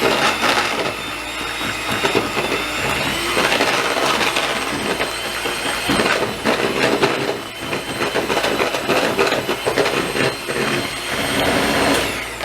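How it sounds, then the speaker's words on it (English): An electric hand mixer whirs steadily as it beats wax for scoopable wax melts in a bowl, with rattling and knocking of the beaters against the bowl throughout. "I'm just going to use this hand mixer here, and I'm just going to beat it."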